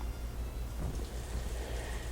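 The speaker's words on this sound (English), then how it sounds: "Still raining." Steady rainfall from the farming video game Harvest Moon: A Wonderful Life, a soft, even hiss with a low rumbling undertone that continues unbroken and alone.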